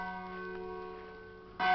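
Church bells ringing at noon in a garden, steady resonant tolling heard from a distance, growing louder with a fresh strike at the end.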